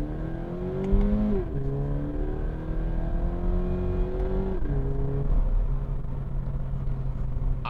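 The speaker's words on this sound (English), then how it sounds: "I love the sound of the boxer engine. You can hear the intake." A 2020 Toyota 86 boxer engine with a throaty, flat rumble and audible intake climbs in pitch as it accelerates through gears, heard from inside with a steady low drone.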